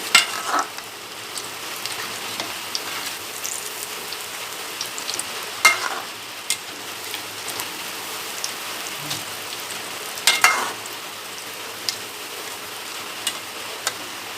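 Green banana bonda fritters bubble and frizzle steadily in hot oil over high heat, a continuous close crackle with a few louder bursts along the way and no talking.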